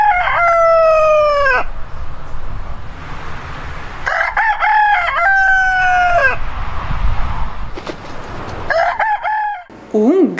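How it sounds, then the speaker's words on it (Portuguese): A rooster crows three times in long rising and falling calls, loud and close, with short gaps of farmyard noise between them. "Um galo cantando?"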